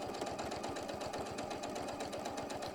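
Sewing machine quick-stitching around an applique edge, a fast, even rhythmic thumping of the needle, steady and close throughout.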